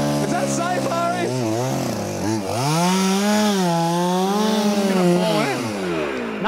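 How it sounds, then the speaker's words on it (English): A chainsaw cuts through ice outdoors in the cold, its engine loud and close, steady and continuous, with the pitch rising and falling as the bar bites in. "cold enough to warrant using a chainsaw to get through it"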